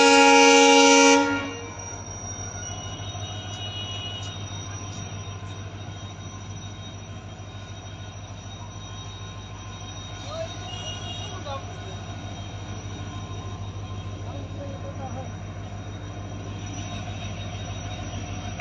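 A Banaras–Veraval superfast express train stands at Jetpur railway station, giving a loud low steady rumble and drone after a brief sharp burst at the start.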